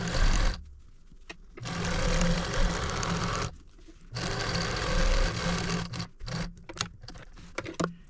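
A home sewing machine stitches a quilt binding seam in three steady whirring runs separated by short pauses, close and fairly quiet, with a few small clicks and handling noises near the end.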